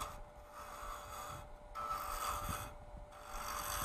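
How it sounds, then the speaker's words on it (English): A bowl gouge makes a pull cut along a wooden support spindle turning on a wood lathe, giving a steady scraping rasp that rises and dips in passes, close and continuous, with no talking. "Okay, so I'm just gonna do a pull cut here and get the shape."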